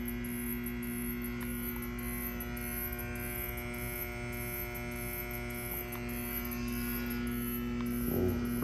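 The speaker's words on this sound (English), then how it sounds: "this is able to control down to a very minimal speed on the motor" A 1950s-style thyratron-controlled DC motor drive turns at minimal speed, giving a faint, steady electrical hum with a thin whine that holds unchanged throughout, close and quiet with no voices.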